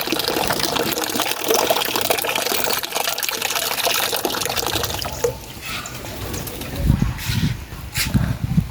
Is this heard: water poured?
yes